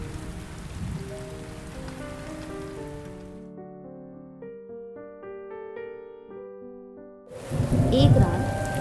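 Heavy rain in a Hindi animated moral story about a poor farmer, a dense downpour with thunder-like rumble that gives way to a stretch of soft music, then returns loudly.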